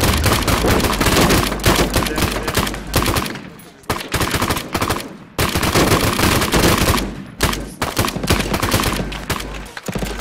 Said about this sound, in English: Alright, everyone fire!